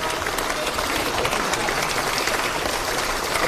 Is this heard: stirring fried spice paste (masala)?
no